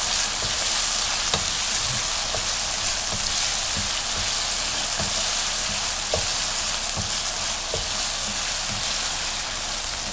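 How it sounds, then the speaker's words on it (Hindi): Lemon chicken tikka fries in a pan with a steady, dense sizzle and scattered soft pops and stirring clicks, loud and close throughout, with no voices heard. "और इसको और थोड़ी देर के लिए फ्राई करें।"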